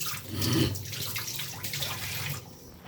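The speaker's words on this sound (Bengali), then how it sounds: "হাতটা ধুয়ে নিই" Hands washed under a running tap in a home kitchen, a steady close wash of water splashing and gurgling for a few seconds, then easing off, with no talk.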